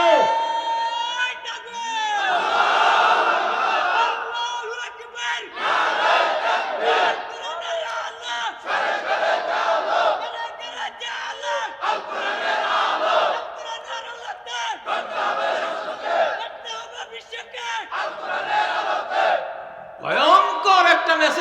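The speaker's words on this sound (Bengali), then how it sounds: "তাকবীর দাও।" A large crowd at a religious sermon gathering chants the takbir in loud, repeated unison shouts, rising and falling in waves throughout.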